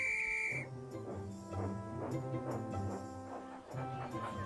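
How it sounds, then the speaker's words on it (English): A high, steady whistle from a Tomy Thomas & Friends Percy toy train engine sounds briefly at the start, then gives way to music-like harmonic tones and singing-like voices that carry on throughout. "Soon the children were singing and Percy was whistling"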